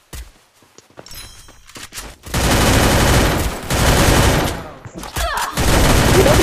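Rapid bursts of automatic gunfire from the Free Fire video game, loud and dense, with brief gaps and some scattered footsteps between volleys.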